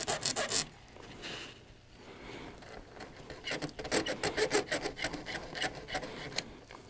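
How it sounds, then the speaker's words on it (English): A hand file scrapes across the cut rail ends of HO scale flex track in short, close, rhythmic rasping strokes, with a pause in the middle before a quicker run of strokes. "we'll just file it and make the ends as neat as we can"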